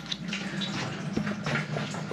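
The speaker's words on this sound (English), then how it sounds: "it's about drained all the water out. And it's going in the bucket here" Water trickling and splashing steadily into a bucket as it drains out of a cracked toilet, a close, continuous gurgling pour with small splashes throughout.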